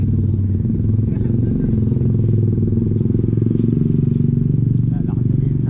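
A motorcycle engine runs close by on a city street, a steady low rumble and clatter that holds throughout without a clear rise or fade, loud and near.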